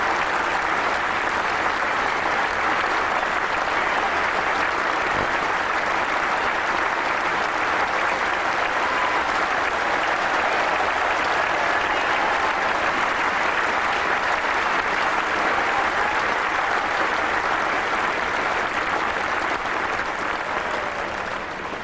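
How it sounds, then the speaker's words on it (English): Sustained, steady applause from a cricket crowd greeting Richard Hadley, a dense, even roar of clapping that holds at the same level for the whole stretch without any voices rising above it. "now a marvellous ovation for Richard Hadley"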